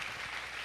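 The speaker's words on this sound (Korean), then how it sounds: "다시 한번 큰 박수 부탁드립니다." Audience applause at the close of a science lecture in a hall, a brief, steady wash of clapping heard alone at moderate distance.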